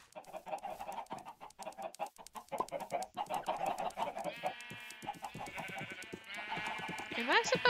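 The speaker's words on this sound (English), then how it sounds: "Am I supposed to see a bunch of chickens and sheep?" Minecraft chickens cluck and sheep bleat repeatedly in the video game, with overlapping calls growing louder toward the end while a person talks over them.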